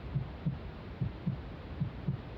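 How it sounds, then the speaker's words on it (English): A faint, muffled heartbeat sound effect in a fear assessment video game thumps in a steady rhythm, about six low beats over two seconds. "I almost feel like I can hear a heartbeat."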